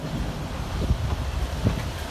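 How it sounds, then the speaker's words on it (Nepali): Strong windstorm roaring across a village in Chitwan, Nepal, a steady low buffeting rush with gusts striking the microphone, loudest around the middle and near the end, no talking. "एकदम ठुलो हावाहुरी आइरहेछ"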